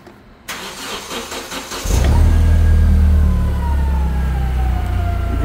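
A 2016 Hyster Yale 5000 lb pneumatic airport forklift engine cranks and catches, settling into a loud, steady low rumble that runs on alone after a brief quieter lead-in.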